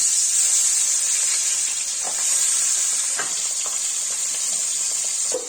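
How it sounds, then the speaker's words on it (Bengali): Pabda fish sizzling in hot oil, a steady bright hiss of frying with a few small pops and crackles, close and continuous without voices. "এখন মাছগুলো তেলে ছেড়ে দিচ্ছি"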